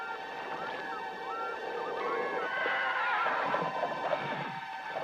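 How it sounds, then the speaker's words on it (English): Ghostly horses whinnying and neighing in eerie, drawn-out cries over a reverberant wash, with faint clattering hooves as if hurtling up stone castle stairs, moderately loud throughout. "Some hear the sounds of ghostly horses hurtling up the stone stairs of a castle"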